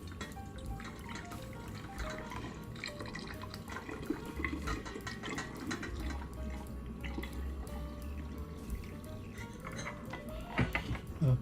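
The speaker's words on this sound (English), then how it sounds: "Pour it nice and slowly." Homemade teriyaki sauce poured slowly through a funnel into a bottle, a steady close liquid trickle with faint clinks of the funnel and bottle, no speech.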